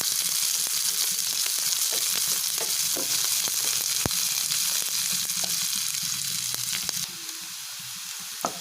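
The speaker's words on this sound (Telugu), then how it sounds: "పోపు ఫ్రై అయిన తర్వాత ఉల్లిపాయలు వేసుకొని ఫ్రై చేసుకోవాలి" Steady, loud sizzling of onions frying in hot oil over tempering spices, with occasional stirring clicks and pops; no voices.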